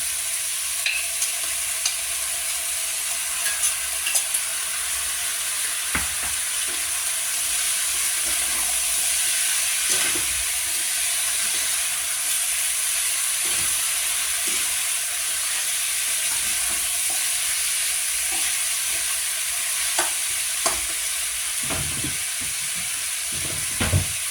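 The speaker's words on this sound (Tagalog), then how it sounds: "isalang na natin yung patatas at carrots na ating ginisa para malambot na siya" Potatoes and carrots sautéing in a pan, a steady loud hissing sizzle that runs throughout, with occasional scrapes and knocks from stirring and no talk.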